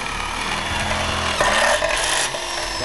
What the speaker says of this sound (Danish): Og det er så boring af Hauyen 125.